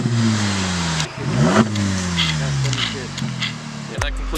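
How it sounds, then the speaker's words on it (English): VW MK7 Golf fitted with a Unitronic turbo elbow, its engine revved several times in quick rising and falling sweeps, loud and close, settling to a low idle at the end. "We're gonna get a few revs."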